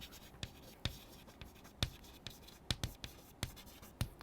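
Someone writes on a board during a machine learning lecture, producing quiet, sharp scratchy strokes and taps in an irregular rhythm, close by and with no talking over them.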